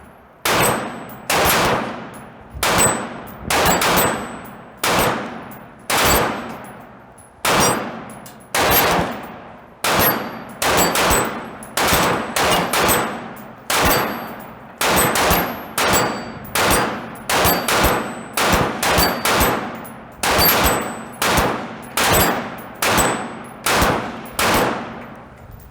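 Outdoor target shooting at spinning steel targets, with loud, sharp gunshots and metallic hits in rapid, uneven succession, sometimes overlapping, continuing steadily for a long stretch with no talking.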